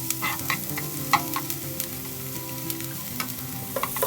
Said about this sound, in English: The onions are starting to brown nicely.